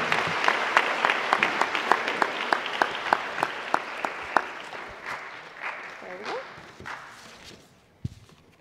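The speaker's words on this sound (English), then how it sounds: "Please give a round of applause" Applause from an audience at a high school senior awards ceremony, a steady patter of many hands with a few sharp louder claps, fading out toward the end, with voices talking over it.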